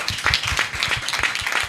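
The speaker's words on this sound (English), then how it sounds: "Again, a clap." An audience at a conference convening claps in thanks to a lived experience team, a brief patter of individual claps with distinct sharp hits close by.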